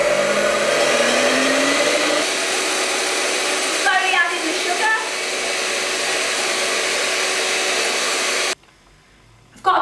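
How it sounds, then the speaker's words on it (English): An electric mixer whisks egg whites until frothy and doubled in size, a loud steady whir running continuously under faint background voices before cutting off abruptly near the end. "we now need to mix these egg whites until they are frothy and doubled in"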